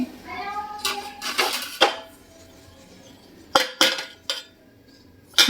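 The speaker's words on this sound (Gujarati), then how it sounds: "એ હજી જો તપેલું ઉટકવાનું છે" Metal cooking pot being scrubbed in a home kitchen, with clinking and scraping bursts near the start and a few short, sharp clanks later, separated by quiet gaps, close and moderately loud.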